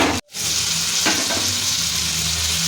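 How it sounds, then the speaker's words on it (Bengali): Tomatoes and coriander leaves fry in a pan with a loud, steady sizzle that carries on throughout after a brief silent gap near the start, with an occasional stir and no voices. "এবার এটাকে ভালো করে ভাজা ভাজা করে নেবো"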